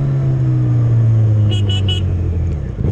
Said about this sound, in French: T'entends ce pétarade?